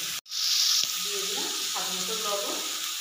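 Potatoes and pumpkin pieces sautéing with salt in a pan for kumro chop, a constant soft sizzling hiss at close range that continues under a person talking.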